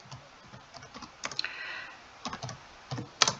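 Keys tapped on a computer keyboard in short irregular bursts with pauses between, close and moderately quiet, no voices.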